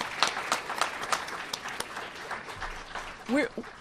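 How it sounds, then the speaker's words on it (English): A small group at a college basketball press conference claps for athletic department staff, scattered and fairly faint, thinning out toward the end as a voice briefly cuts in. "Let us give you a big round of applause while we're here"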